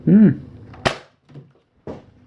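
A Nerf Rival Overwatch McCree blaster fires once, a single sharp, loud pop near the mic, with a fainter mechanical click or thump following; a brief voice is heard at the start.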